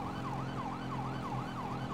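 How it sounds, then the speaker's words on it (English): Wailing police car siren in a video game, a rapid looping rise-and-fall yelp repeating steadily over a low engine rumble, fairly quiet and without talk. "Unless you turn your sirens on."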